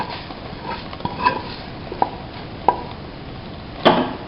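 A spoon stirs a fish peera mixture in a pan, with sparse scraping and a few sharp metallic taps against the pan over a quiet background, close by.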